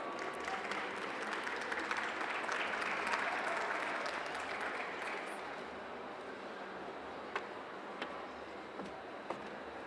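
Sustained applause from a seated audience welcoming a nurse speaker at a medical conference on advanced wound and stoma care, steady clapping that swells then eases slightly, with a few louder claps standing out near the end.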